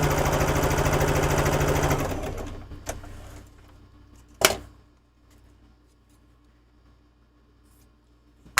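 A sewing machine running steadily while piecing a quilt, loud and close for about two seconds before stopping, followed by a few clicks and handling knocks in a quieter room.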